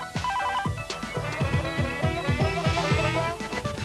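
An old telephone bell rings in repeated bursts, a bright trilling electronic ring pulsing steadily and loud throughout, alone without talk.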